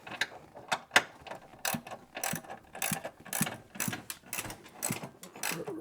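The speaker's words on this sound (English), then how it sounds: "ratchet this thing back down" Repeated ratchet clicking in bursts while a hood strut is tightened on a Ford Bronco, close and moderately loud, with short pauses between runs of quick clicks.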